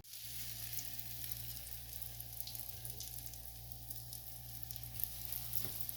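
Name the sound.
bread sandwich shallow frying in a pan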